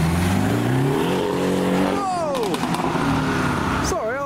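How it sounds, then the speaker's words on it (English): A VW up! GTI revs loudly at a wet car meet. Rising engine notes climb through the gears, then a drop and more sharp revving sweeps. A voice talks over the continuous engine noise. "A110 is being silent. And the up GTI isn't."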